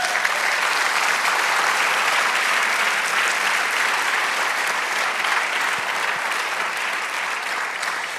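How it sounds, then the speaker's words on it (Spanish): A church congregation claps in sustained, lively applause during a sermon, a thick continuous roar of many hands that stays full and even throughout, with no talk over it. "Denle un aplauso al Señor."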